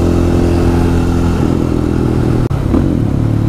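A KTM 500 EXC supermoto single-cylinder motorcycle fitted with an FMF exhaust revs hard and close, a loud sustained engine roar that dips briefly near the end before picking back up.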